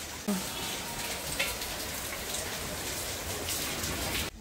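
Dense, steady rain hissing on surfaces nearby, continuous and fairly loud, with a few sharper drops and faint background sounds.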